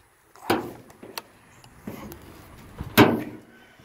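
Hood latch on an old car with a 318 engine being released and the hood popped open: a few sharp clunks and metallic thumps, close and fairly loud, with quiet rustling between.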